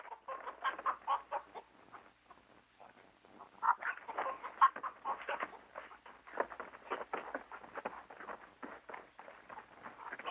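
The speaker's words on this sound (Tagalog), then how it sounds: "Bakit dala niyo yung manok ko?" Chickens cluck and chatter steadily in a rural Filipino setting, a busy run of short clucks and bursts at moderate distance with no pause throughout.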